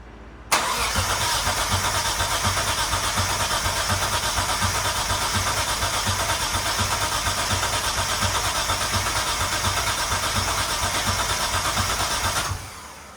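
Rebuilt Mitsubishi 3000GT drift car engine cranks continuously for about twelve seconds without firing to build oil pressure, a loud, steady starter whir that stops abruptly at the end.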